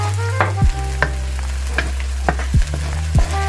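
Garlic cooks on the residual heat of a pan with the flame off, for Chinese-style green beans with garlic. A loud, close hiss is broken by several quick scraping stirs.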